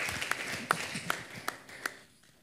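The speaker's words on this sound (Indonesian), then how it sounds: "Tepuk tangan buat pemusik yang luar biasa." A church congregation at a morning service claps for the musicians, with a handful of sharp, evenly spaced claps that trail off into quiet.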